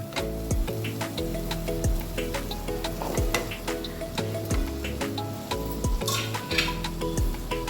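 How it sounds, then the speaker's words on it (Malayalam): Chopped potatoes stirred into a cooked tomato masala for cabbage curry, with close sizzling and a run of scraping, clacking spoon strokes against the pan over a steady rhythmic ticking in the background. "ഇനി നമ്മൾ നുറുക്കി വെച്ചേക്കണ ഉരുളക്കിഴങ്ങ് ഇട്ട് കൊടുക്കാം"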